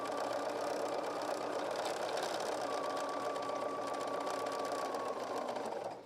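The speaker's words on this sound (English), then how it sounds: "it's when we sew one piece and then bring the next under and the next under and the next under" A sewing machine chain pieces fabric for a petal pillow, running in one continuous, even mechanical whir with a rapid needle rhythm, fairly close, slowing to a stop at the end, with no talking.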